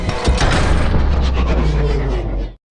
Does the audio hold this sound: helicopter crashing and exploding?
yes